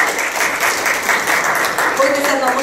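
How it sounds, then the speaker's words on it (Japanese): An audience at a Japanese opposition-party gathering applauds to welcome politician Akira Koike: steady, dense clapping from many hands throughout, loud and close. "拍手でお迎えください。"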